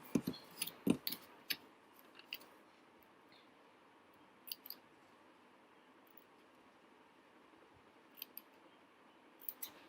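Scissors snip out paper penguin legs for a kids' craft, a quick cluster of crisp cuts at the start, then a few isolated snips spaced out over a quiet room.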